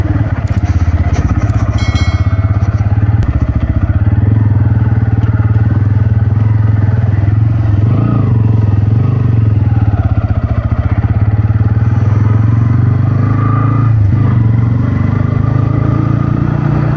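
A Bajaj Pulsar N160 motorcycle rides through dense fog on a cold morning, its engine droning steadily and loudly throughout with wind rush and occasional rattles.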